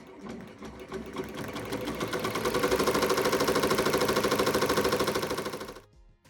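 An automatic embroidery machine stitches a design into a sweatshirt with a rapid, steady mechanical chatter that builds slightly in intensity, running continuously for almost six seconds before stopping abruptly.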